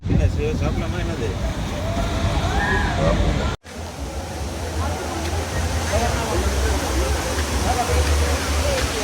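A waterfall near Valparai roars as a steady, loud broadband rush that continues without a break. Voices and crowd babble mix into the water noise, and the rush cuts out for a moment partway through.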